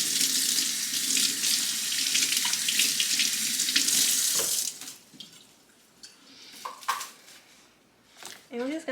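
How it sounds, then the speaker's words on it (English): Running tap water splashes over lemongrass stalks in a kitchen sink, a loud rushing stream that gives way to scattered drips and small splashes as the rinse ends. "Give it a nice little rinse."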